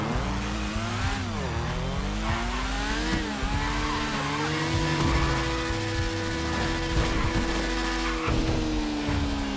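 In GTA, a motorbike engine drones loud and continuous throughout, its pitch rising and falling with throttle, and a few tyre-squeal-like sweeps mixed in.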